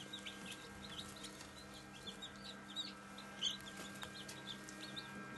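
Newly hatched village chicks from an incubator cheep in high, scattered peeps over a low steady machine hum, fairly quiet with one brief louder chirp, no talking.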